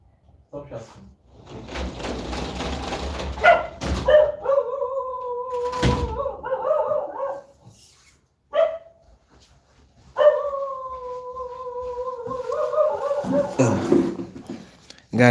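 A dog barks and makes drawn-out, howl-like whines, with loud thumps and knocks in between, across a long, noisy stretch with a brief quiet gap partway through.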